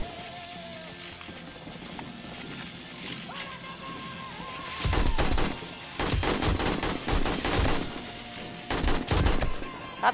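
An automated shotgun turret fires during a horde night at a base in the video game 7 Days to Die, giving a run of loud, booming blasts in the second half over a background of game ambience.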